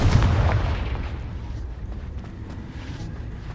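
A Confringo fire spell explodes in Hogwarts Legacy, giving a loud, heavy boom at the start that rolls into a long rumbling decay.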